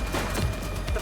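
Gunshots in The Precinct, a police action game, a short, dense burst of rapid shots, loud and close, heard alone in a brief moment.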